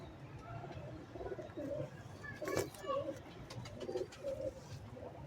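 Soft pigeon coos repeat in short rounded phrases, fairly close but quiet, among fancy kabootar breeding birds, with a low background murmur and a few small sharp clicks in between.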